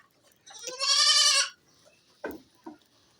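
A goat gives one loud, wavering bleat, followed by a couple of softer thuds and rustles as goats feed on fresh green grass nearby.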